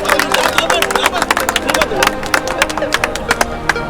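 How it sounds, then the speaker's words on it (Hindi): Loud, steady clapping from an audience at a U.P. Cup prize distribution ceremony, a continuous crackle of many hands with crowd chatter and voices mixed in. "जोरदार तालियां।"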